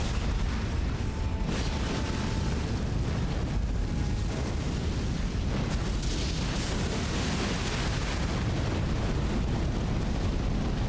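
Boss fire attacks in Elden Ring Shadow of the Erdtree, a continuous roaring rumble of flames and bursts that stays loud and dense throughout, with no speech.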